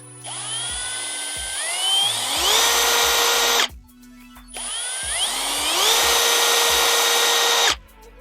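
Milwaukee M12 FPDX cordless drill-driver with variable speed spinning up twice, motor whine rising in pitch as the trigger is squeezed, holding at full speed, then stopping; loud and close, no talk.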